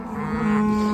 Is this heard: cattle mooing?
yes